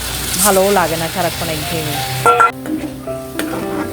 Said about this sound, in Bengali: এখন দেখো একটু ভালো করে কষিয়ে নিচ্ছে।